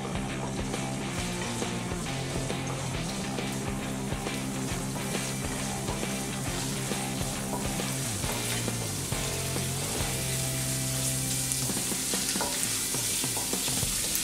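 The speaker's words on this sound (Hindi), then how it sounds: "ये 1 टीस्पून जिंजर है, इसे हम थोड़ा सा पहले फ्राई करके लेंगे।" A teaspoon of ginger frying in hot oil for veg Manchurian, a loud continuous close sizzle with clinks and scrapes of stirring throughout, no talking.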